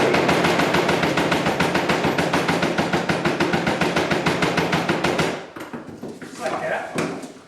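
A heavy-duty distressing tool punching wormholes into wood, making a fast, loud, rapid-fire string of close impacts for several seconds before it slows into a few uneven knocks.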